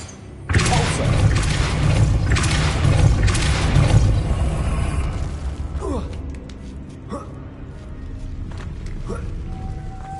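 Depulso spell cast in Hogwarts Legacy, a loud booming blast with crashing thuds and rumble that fades into softer clanks and creaks, all game sound with no one talking.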